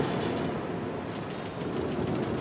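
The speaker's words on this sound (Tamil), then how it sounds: "மழை வர மாதிரி இருக்குது" Steady rain pours down in a dense, even hiss that fills the whole moment with faint scattered patters. No voices are heard.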